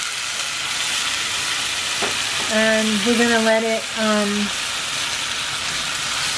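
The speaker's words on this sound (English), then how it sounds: "Sizzle, sizzle." A vegan tofu-free breakfast scramble sizzles loudly and continuously in a hot pan while a person speaks briefly over the frying.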